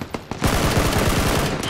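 Gunfire in PUBG Battlegrounds starts with a few sharp single shots, then breaks into a loud, rapid automatic burst that keeps going at close range without pause.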